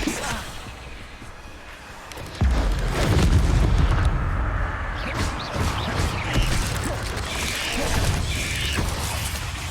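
The Confringo blasting spell in Hogwarts Legacy, a fiery explosion that hits with a sudden heavy boom and rolls into a sustained crackling, rumbling roar over layered combat effects.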